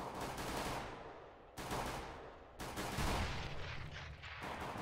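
Gunfire in a competitive shooter video game match: loud, dense bursts of shots with brief pauses between volleys, sustained close-up across the whole stretch.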